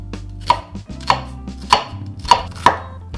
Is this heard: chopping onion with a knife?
yes